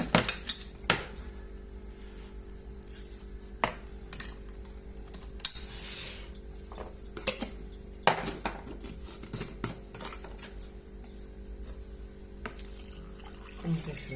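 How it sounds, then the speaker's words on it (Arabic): Tap water runs into a bowl during bread dough preparation, a quiet trickle under clinks of a spoon and dishes, with scattered sharp knocks and a steady low hum in a home kitchen. "نضيف الماء"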